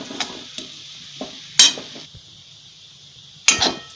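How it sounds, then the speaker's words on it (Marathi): A spoon scrapes and clinks against a pan while fenugreek laddoo mixture is roasted dry, a few sharp metallic knocks scattered over a faint, quiet background. "भाजून घेते मी चांगलं 2 मिनिट"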